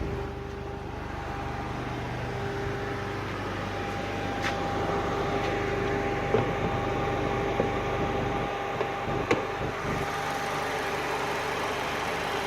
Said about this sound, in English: 16 valve engine, which produces 100 horsepower